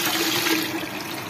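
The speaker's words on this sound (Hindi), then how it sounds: "अभी इसमें खारा पानी ऐड कर रहा हूँ" Salt water poured into a new turtle aquarium tank makes a steady, continuous rushing splash, close and fairly loud, with no talking over it.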